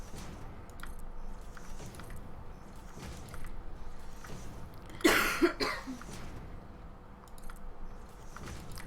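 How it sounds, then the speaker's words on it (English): A single sharp cough cuts through a quiet room background, standing out briefly before the low ambience continues. "if you do hear any coughing"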